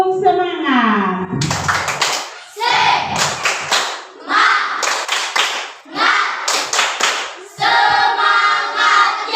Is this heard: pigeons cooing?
no